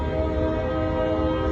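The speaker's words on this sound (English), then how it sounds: "It's the freight train." A passing freight train fills the scene with a steady, loud rumble and sustained tonal drone, continuous throughout with no voices.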